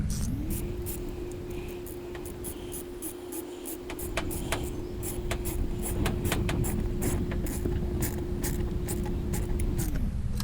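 An 8mm socket wrench tightens a bolt on the intake of a 2001 Honda Accord, its ratchet clicking in a rapid, irregular series over a steady low background hum.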